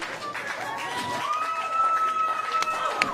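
Wrestling arena crowd cheering for Thunder Rosa, a busy roar of voices and shouts with a commentator talking over the top.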